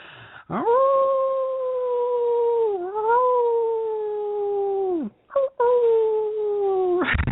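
A person howls at the full moon during a meditation, long sustained wolf-like wails that bend slightly in pitch, with a short break before a second drawn-out howl; the voice imitates a wolf.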